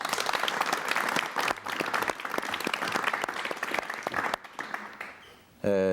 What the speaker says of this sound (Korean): 여러분 뜨거운 환영의 박수를 부탁드리겠습니다